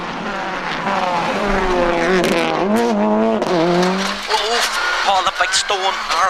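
A rally car on a tarmac stage at the 2003 Donegal International Rally screams through rising and falling gear changes at close range, with engine revs and brief tyre noise.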